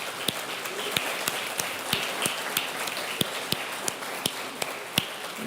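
Steady rhythmic clapping at a regular beat in a church service, fairly quiet, with a soft murmur of the congregation beneath the sharp hand claps.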